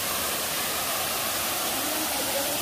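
Bigaho Falls roars as a steady, dense wash of falling water, a continuous close rush of white noise with no pauses and no voices over it.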